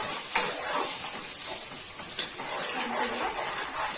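Onions fry in a pan for a pure veg handi biryani, a steady soft sizzle broken by two sharp metallic clinks of a utensil, with no talking.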